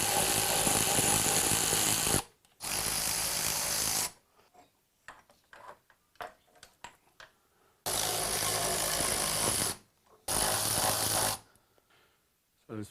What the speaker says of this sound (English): I might use a socket.